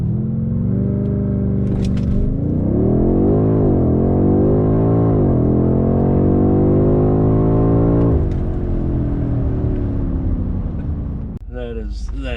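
BMW X6M Competition with DCS off accelerating hard in manual shift mode on all-season tires, loud close engine roar climbing through several gear changes with deep harmonic rumble, then settling, with a brief voice near the end.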